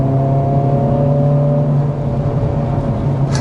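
A Hyundai Elantra N sports car drives along a back road, its engine holding a steady, loud drone with a low hum and whirring tone that dips briefly midway and continues without talk.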